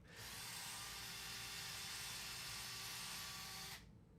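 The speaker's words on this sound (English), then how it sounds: "Feel free to mute when you drill." Power drill running during a live PC build, one continuous whirring burst lasting several seconds at steady level, then stopping abruptly.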